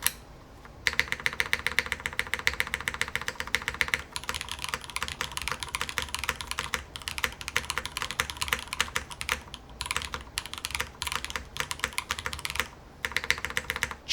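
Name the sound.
typing on mechanical keyboard with Cherry switches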